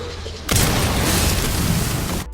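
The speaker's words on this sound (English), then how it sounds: "How explosions ring out." A sudden loud explosion in the horror video game Resident Evil Requiem hits at once and rumbles on as a sustained heavy blast before cutting off abruptly.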